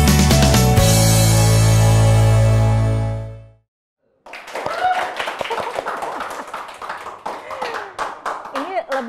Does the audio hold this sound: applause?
yes